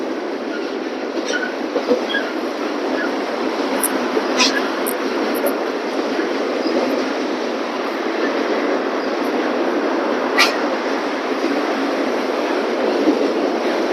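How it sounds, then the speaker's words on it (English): Norfolk Southern train approaching at night, a steady broad rumble and rail noise with occasional sharp wheel squeals, moderately distant, with people talking quietly over it. "The train coming, but I think it's gonna take long."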